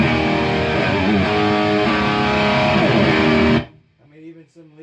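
Heavily distorted electric guitar through a Marshall Valvestate 8100 amp on its boost channel with gain at maximum, loud and saturated, cutting off abruptly before a voice begins speaking.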